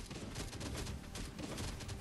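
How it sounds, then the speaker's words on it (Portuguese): A rapid burst of turret gunfire in a video game crackles in quick repeated shots, fairly faint and dense throughout. "Dá um tiro aí, super poderoso."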